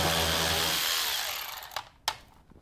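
A compact Milwaukee power driver whirs loudly, backing out T20 Torx screws that hold the front lip on a Porsche Cayman 987.2; one long run winds down, followed by two short sharp bursts.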